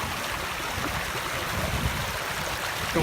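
A stream on Dartmoor rushes and babbles steadily over stones, a continuous close flowing sound with no voices.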